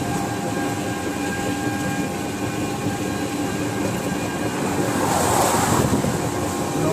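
A train rumbles steadily across a rail bridge near Nabadwip and Krishnanagar, a loud continuous rolling drone with a faint metallic whine, building slightly toward the end.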